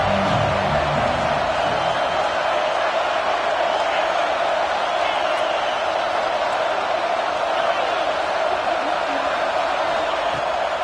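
Dense stadium crowd at a college football game, roaring steadily and loudly throughout as fans rally behind the defense on a big third down, with no break in the noise.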